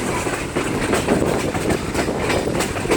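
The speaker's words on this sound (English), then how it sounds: "2 diesel engines, Georgia Smoky Mountain Railroad." A Georgia Smoky Mountain Railroad train hauled by two diesel engines rolls past near Bryson City, its wheels clattering rhythmically and its cars rumbling loudly and continuously.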